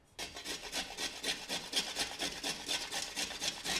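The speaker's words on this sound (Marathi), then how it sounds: "शेंगदाणे भाजून होत आहेत तोवर छोटासा खोबराचा पीस किसून घेऊयात" Small piece of coconut grated by hand for a peanut-based fresh pea masala, giving fast, regular rasping strokes, close and steady, about four per second, with no talking.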